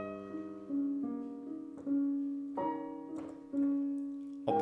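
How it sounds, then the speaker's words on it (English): Piano notes sound softly and alone, a held appoggiatura sliding up one step to resolve, repeated in a gentle, unhurried phrase. "this beautiful appoggiatura that actually resolves upwards this time instead of downwards"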